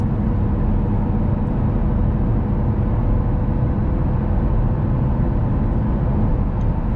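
A stock 2009 Audi R8 4.2L V8 cruising at 3,500 RPM and about 65 mph, heard from inside as a steady, loud low drone of engine and road noise with no change across the stretch.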